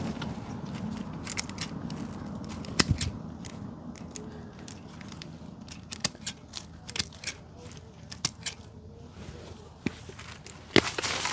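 Garden pruners snip and crunch through plant stems and roots outdoors in a scattering of sharp, irregular clicks, close by over a faint rustling background.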